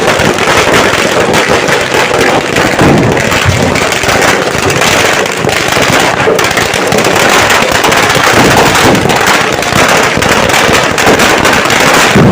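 Firecracker strings and guns fired into the air at a village festival crackle in a dense, continuous barrage of loud pops and bangs, with wind buffeting the microphone throughout.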